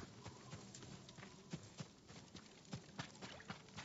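Horse hooves clip-clopping in Ghost of Tsushima, steady footfalls over a dense, noisy game soundscape, moderately loud and continuous through the moment.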